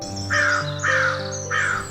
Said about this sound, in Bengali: আর শহরে কাকের চিৎকারে।